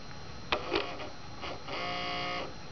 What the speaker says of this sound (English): Let's apply power to the motor and see if we can get the thing to move